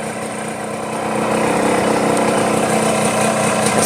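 A 1996 Yamaha RXZ two-stroke motorcycle engine in healthy condition runs steadily up close, its buzzing drone swelling slightly after the first second and then holding a constant level, with no talking.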